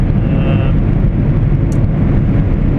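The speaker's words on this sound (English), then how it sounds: "It was actually wind noise on the windscreen, and the light bar on the truck as well." Wind roars over a truck's windscreen and roof light bar while driving, a loud, steady low-pitched rush blended with road rumble, constant throughout without talk.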